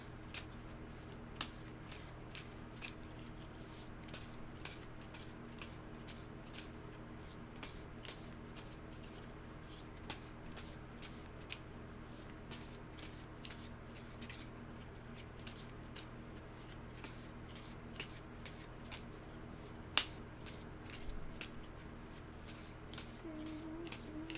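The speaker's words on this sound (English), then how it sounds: "I have to shuffle the skill deck" A deck of skill cards for the board game Unbroken is shuffled by hand, a long run of quick papery riffles and flicks repeating steadily at close range.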